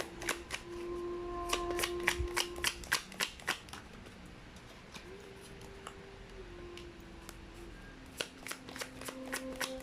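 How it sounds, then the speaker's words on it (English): Tarot cards being shuffled and drawn, a run of crisp close snaps and riffles, with quick clustered bursts and short pauses between, over a faint background hum. "Let me get 3 more cards here."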